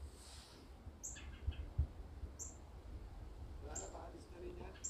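A red bird gives a few faint, sharp chirps spaced apart in a quiet outdoor setting on a wintry day, with low rustling and handling noise underneath.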